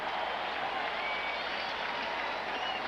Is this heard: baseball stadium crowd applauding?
yes